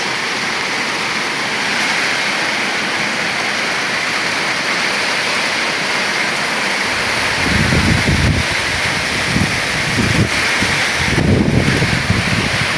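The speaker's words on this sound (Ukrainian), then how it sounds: "Чуєте, як шелестить?" Wind rushing through leaves in a constant rustling roar, with heavier gusts buffeting the microphone during the second half.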